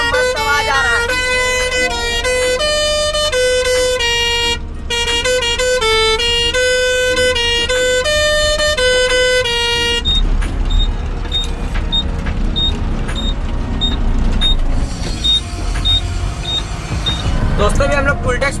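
A modified truck's pressure horn blares a loud melodic sequence of stepped tones for about ten seconds, then gives way to heavy road and engine noise with faint repeated beeps.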